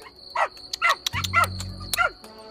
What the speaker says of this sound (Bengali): কুকুরগুলো ফের ঘেউ ঘেউ করে তেড়ে এলো।